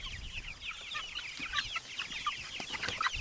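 Chickens cluck and chatter at close range as they come out of a chicken tractor on a farm, with overlapping busy calls and light scratching noises throughout.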